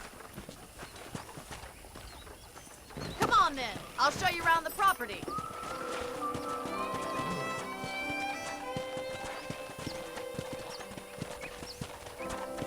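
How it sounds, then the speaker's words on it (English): Horse hooves clip-clop at a walking pace while riding in the Western video game Red Dead Redemption, a steady near rhythm running under conversation, with a whinny and music joining partway through. "let's see if you can still ride a horse"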